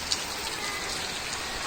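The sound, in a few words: heavy rain falling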